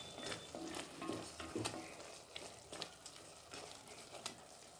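Mochai masala is stirred and sautéed in a pan, a soft sizzle of frying under irregular scraping strokes of a spoon, close but fairly quiet, with no voices.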